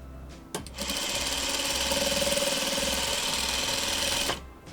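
A sewing machine stitches a seam joining print fabric for a Courthouse Steps quilt block, running at a steady, even speed for nearly four seconds before stopping abruptly, with no talking.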